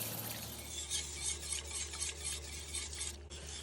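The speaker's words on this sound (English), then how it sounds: "Continue whisking to avoid burning and lumping." A flour and milk mixture for ermine buttercream is whisked in a pot over medium-low heat, giving quick, rhythmic scraping strokes against the metal, close and fairly soft, with a low hum beneath.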